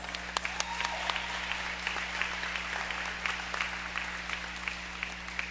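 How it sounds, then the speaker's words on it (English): Crowd applause in a gym at a college volleyball event, sustained clapping for several seconds with sharp individual claps standing out over a constant low hum, no talking on top. "So let's give them a round of applause."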